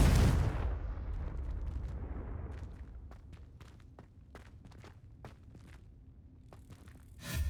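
A Confringo blasting spell explodes in Hogwarts Legacy with a loud, deep boom right at the start, then a long rumbling decay scattered with sharp crackling debris snaps and a fresh burst at the very end.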